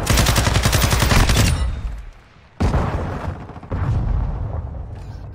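Rapid gunfire from a video game, a dense burst of automatic shots for about two seconds, then after a short pause two more loud bursts of shooting, close and heavy.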